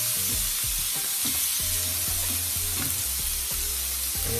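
Peri peri chicken pieces sizzle and fry steadily in a hot pan as they are turned over, a loud continuous crackle with no voices.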